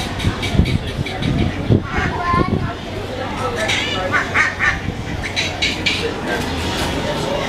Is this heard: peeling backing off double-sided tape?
no